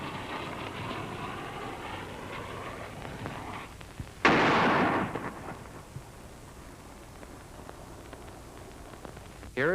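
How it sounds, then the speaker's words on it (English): A WWII-era artillery shell bursts in a sudden loud blast partway through, its roar decaying over a couple of seconds against a continuous low rumbling background. "Here is the burst of the shell."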